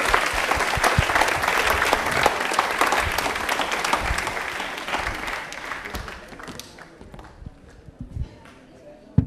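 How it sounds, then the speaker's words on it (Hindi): Studio audience applause on a Rajasthan television quiz show about Indian Railways, a dense burst of clapping that swells loud then thins and fades over several seconds, with scattered individual claps near the end. "क्या बात है भैया, ताली बजा दो।"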